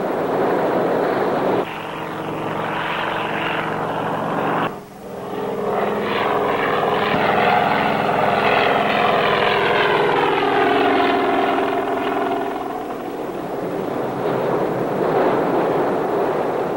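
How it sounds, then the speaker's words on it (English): Coast Guard helicopter engines drone continuously overhead, a loud, steady roar that rises and fades slightly as the craft pass, with no voices. "Coast Guard boats and helicopters converged on the area"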